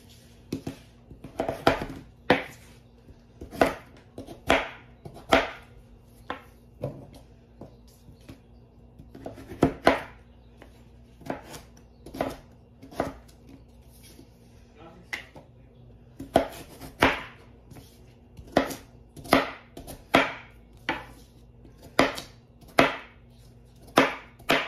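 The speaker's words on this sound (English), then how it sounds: "Time to dice these good old sweet taters." A kitchen knife dices raw sweet potatoes on a cutting board, a steady run of sharp, close chops with short pauses in between.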